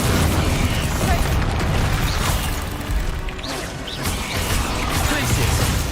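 Bombarda blasting spells in Hogwarts Legacy combat burst and crash in dense, loud bangs and booms over a busy, clattering battle din, with a voice speaking briefly underneath.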